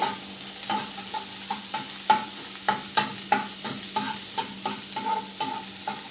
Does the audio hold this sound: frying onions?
yes